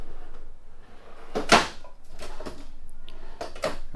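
Drawers in the kitchen island of a Silverstar 364BHS bunkhouse RV sliding and thumping shut, a few short knocks and rattles close by, with no talking.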